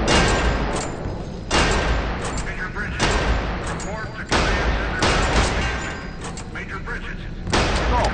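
Pistol shots at a shooting range in the Area 51 video game ring out as sharp, loud reports, about six evenly spaced bangs, each trailing a long echoing decay.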